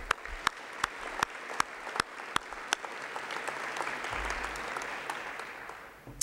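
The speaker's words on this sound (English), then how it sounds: "Let's give a round of applause for Max and his team for their great work." An audience at a college's State of the College address breaks into sustained applause, many hands clapping together close and loud, swelling and then fading over several seconds.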